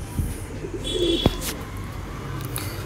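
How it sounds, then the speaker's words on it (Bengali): Madras and Giribaj pigeons, a white female and a black male, coo in low repeated murmurs, close by and moderately loud, with a brief sharp knock partway through and no talking. "সাদাটা হচ্ছে মাদি পায়রা আর কালোটা যেটা রয়েছে সেটা হলো নর পায়রা।"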